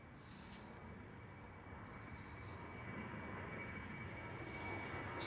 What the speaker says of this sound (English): KLM 737.